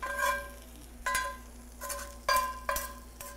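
Apples and onions sizzle in a frying pan as they are stirred, with a soft continuous frying hiss broken by four or five louder scraping, clattering stirs against the pan.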